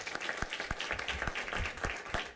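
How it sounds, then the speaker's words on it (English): A small audience at a school board meeting claps in a brief, moderately loud round of applause, individual hand claps distinct and irregular across a couple of seconds. "We can give a nice round of applause."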